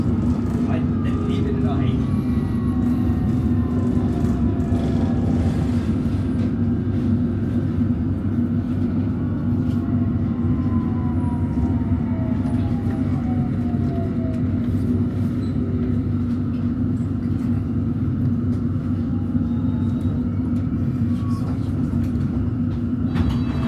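London Underground Metropolitan line train running, a loud steady rumble inside the carriage with gliding motor whines rising and falling throughout and a muffled voice faintly underneath.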